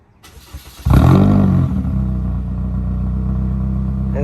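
Toyota Corolla engine fired by remote start: a short cranking whir, a sharp catch and brief rev, then a steady idle settling in close by, with no voices.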